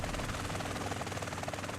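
Helicopter in the video game GTA San Andreas, a dense, steady rotor thump and engine roar with rapid rhythmic chopping that stays loud and close throughout.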